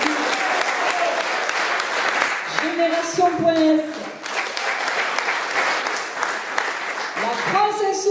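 Applause from an audience at a political rally in Ille-sur-Têt, a steady dense clatter of many hands filling the whole stretch, with voices calling and speaking over it.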